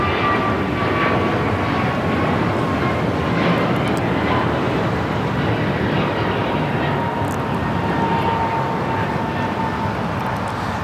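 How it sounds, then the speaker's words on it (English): An American Airlines Airbus A321neo takes off for Lihue at LAX, its engines roaring loud and continuous from start to finish with a faint rising whine. "3186 taking off to Lihue on the A321neo."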